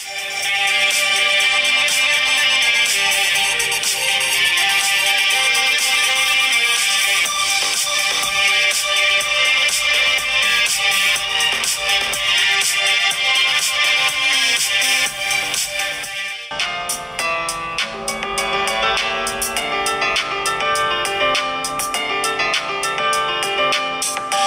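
Music playing through the stereo speakers of an iPhone SE 2020, a loud, full and continuous track that shifts to a brighter, busier section partway through, with no talking.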